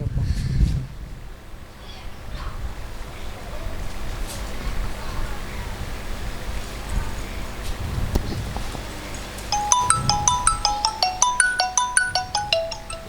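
A mobile phone ringtone starts partway through, a repeating electronic melody that grows clear and steady over outdoor background noise and low rumble during a call to an uncle at a bus stop.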